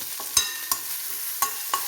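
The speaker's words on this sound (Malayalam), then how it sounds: "അതും കൂടി ഇതിനകത്തേക്ക് മൂപ്പിച്ചിട്ട് നമുക്ക് കറിക്കകത്തേക്ക് ഒഴിക്കാം" A ground paste of coconut, onion, chilli and turmeric fries in a very hot pan for a curry. A steady close sizzle is broken by four sharp stirring scrapes, with no talking.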